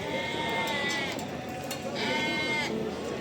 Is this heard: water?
no